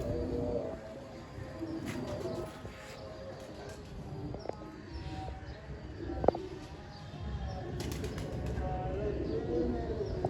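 A pigeon coos softly in short repeated phrases against a noisy outdoor background, with occasional chirps and a sharp tap partway through.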